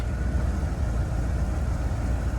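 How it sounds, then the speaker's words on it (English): Steady low idle of a 1981 Corvette C3 V8 engine, a continuous rumbling drone at moderate volume with no talking. "And when it's idling, it's quiet."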